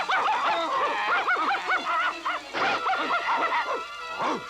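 Cartoon dogs from Scooby-Doo bark and yelp in rapid, overlapping bursts, close and loud, with a brief noisy scuffle partway through.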